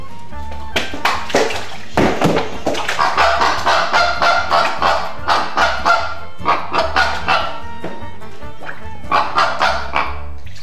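Birds that never lie down call loudly and close by in repeated honking bursts, coming in uneven clusters over a steady low background.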